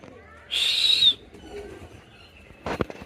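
A short burst of wing flapping from pigeons taking off at a pigeon market, close by, followed by faint rustling and a few soft knocks.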